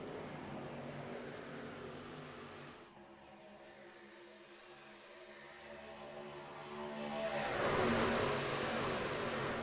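Race trucks lapping Daytona in a racing video game, engines droning at a distance, dipping quieter midway before a louder, rising pass swells near the end, with no voices.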